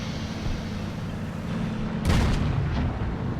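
A tank cannon fires in World of Tanks, one sharp loud boom cutting through steady engine rumble and battle noise and then fading quickly.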